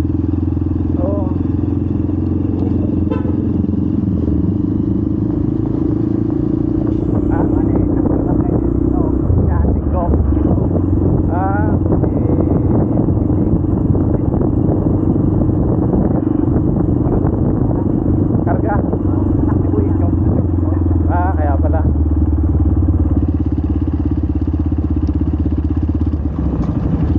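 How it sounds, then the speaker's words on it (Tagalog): A Honda CRF150L motorcycle engine rumbles steadily at close range, its loud exhaust droning throughout while people talk over it. "maingay lang yung motor, ninenervyos ka lang sa tambuchi niya"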